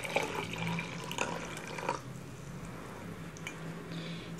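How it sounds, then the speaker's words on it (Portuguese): Water is poured out, a steady splashing stream that is louder at first and then runs on evenly, with occasional drips and no talking. "Vou jogar água fora"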